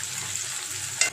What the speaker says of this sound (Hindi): ऑयल जैसे कि हमारा गरम हो जाएगा, हम इसमें डाल देंगे कटी हुई प्याज।